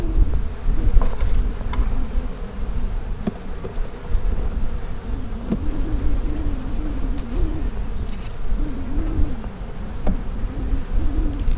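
Honey bees buzzing steadily around an open hive during a spring inspection in a backyard bee yard, a dense continuous drone with individual bees passing close now and then, with no talking.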